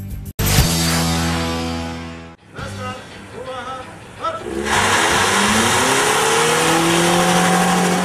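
A car engine revs hard and accelerates during a speed maneuvering competition for driving instructors, the loud roar shifting through gear changes with faint tire noise and voices mixed in.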